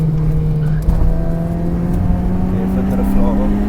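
Twenty-year-old Proton Saga car engine while braking and downshifting into a downhill corner, a steady droning hum with a slight pitch shift near the start, heard up close from inside with a voice faintly over it.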